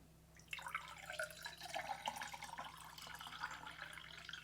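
Water poured into a glass that sits on a floppy-disk coaster, a steady close liquid splash and trickle that starts after a brief quiet moment and continues to the end.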